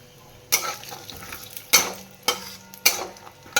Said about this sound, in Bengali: এ দেখা তেল দিয়ে দিয়েছি এবার বাদামগুলোকে দিয়ে দেবো